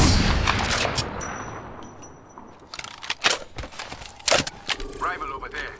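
Gunfire in a shooter video game: scattered sharp cracks and bursts of shots mixed with game effects and voices talking.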